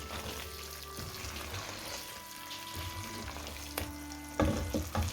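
Potato and egg bhujia sizzles steadily in a pan, a constant close frying hiss with a few stirring scrapes near the end.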